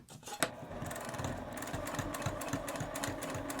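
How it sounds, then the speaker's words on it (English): A sewing machine topstitches along the edge of a fabric hip bag, running steadily with a rapid mechanical whirring and needle chatter for several seconds, close and loud after a brief start. "I'm going to take it to the sewing machine and top stitch 1/8 of an inch from the edge on both sides"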